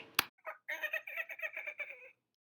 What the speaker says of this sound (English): Baby ostrich.